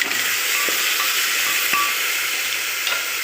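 Chopped tomato halves frying in oil with turmeric and salt for a chicken vegetable stew, a loud continuous sizzle and hiss close by with a few light clinks of a spoon.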